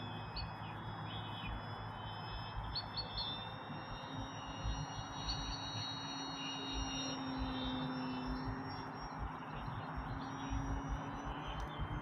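An XFLY Tasman RC airplane's engine drones steadily overhead, its high whine holding a constant pitch over a light wind rumble, with faint birds in the background.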